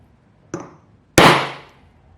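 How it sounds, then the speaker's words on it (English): A center punch is struck with a hammer into the middle of a bolt shank in a fastener repair shop. Two sharp metallic hits land about half a second apart, the second louder and ringing briefly, with quiet in between. "We're going to go ahead and center punch right in the middle of our shank."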